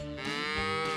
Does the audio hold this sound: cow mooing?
yes